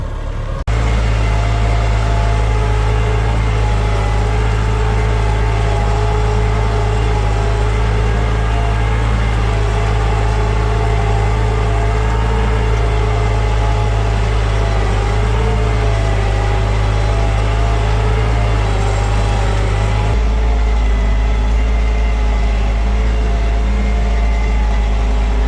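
A small tractor's engine works hard while pulling a tillage implement set too deep through village ground, giving a loud, steady drone with a constant low hum that eases slightly near the end.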